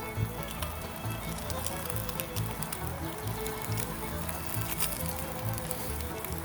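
Steak searing on a very hot steel griddle, near 750 degrees: a dense, continuous sizzle and crackle, close and steady throughout, with no talk over it.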